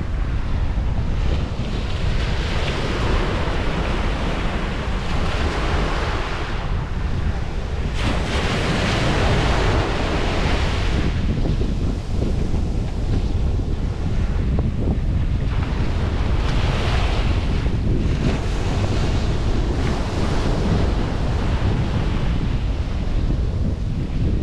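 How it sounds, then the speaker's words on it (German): Ocean waves break on a beach in Barbados with a loud, constant roar of surf that swells and washes over and over, mixed with heavy wind buffeting the microphone. Nobody speaks. "Jetzt schaue ich mir mal noch ein bisschen hier die Wellen an"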